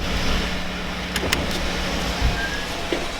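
A truck engine runs steadily just after a cold start, with a continuous low rumble heard nearby and a few faint clicks and light knocks over the top.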